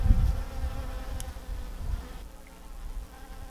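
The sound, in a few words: bees buzzing around yellow flowers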